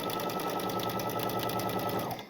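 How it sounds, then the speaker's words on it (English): A sewing machine stitching a drawstring backpack, a steady rapid whirring buzz of needle strokes running loud and close, easing off only at the very end. "So I'm going to create a nice reinforcement stitch up here at the top because that area tends to get some pull on it."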